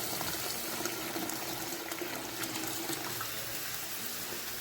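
Water pours into a pot of beef, a steady close splashing and hissing that runs unbroken throughout at moderate level, with no voices.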